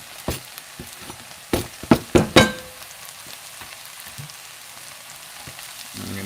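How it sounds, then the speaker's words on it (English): Ginger, garlic, chili and green onion hit hot oil in a pan, with a cluster of sharp clattering knocks and scrapes from stirring early on, then a quieter steady sizzle underneath. "I'm going to give that a nice, generous saute here"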